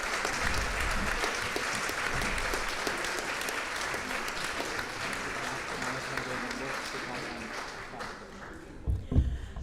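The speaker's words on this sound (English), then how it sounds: "A round of applause to them." An assembly audience applauds, a dense, sustained wash of clapping hands that carries on steadily and thins out near the end, followed by a few louder bumps.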